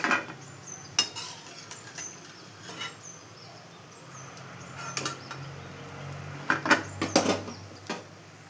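Madata kaja dough frying in oil on a medium flame: a soft, continuous sizzle close by, broken by sharp clinks and scrapes of a metal ladle against the pan, with no speech.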